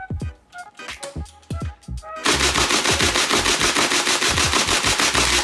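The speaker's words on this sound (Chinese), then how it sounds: "最后，我们使用连发来清空20发的弹夹。" A Qingwuku Challenger MK3 PRO electric foam dart blaster fires a few separate sharp shots, then switches to full-auto and empties a 20-round magazine in a loud, rapid rattling burst of about three seconds.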